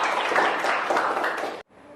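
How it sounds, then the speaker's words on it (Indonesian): Students applaud together in a classroom, a dense, steady burst of clapping that cuts off abruptly near the end before faint clapping resumes, with no speech. "Oke, tepuk tangan untuk kalian."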